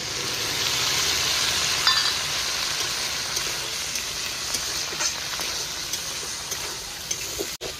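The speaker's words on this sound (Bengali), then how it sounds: "মশলাটা ভাজা হয়ে গেছে" Ground coriander and cumin spices fry in a pan for a dried prawn and pumpkin curry, a steady soft sizzle with occasional light clinks, close and uninterrupted by speech.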